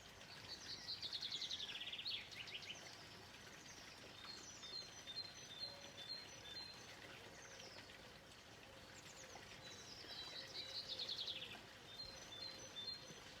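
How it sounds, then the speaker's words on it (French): Small birds sing and chirp in repeated bright phrases over a steady background of flowing water, with no one talking. "les sons de l'eau, des oiseaux"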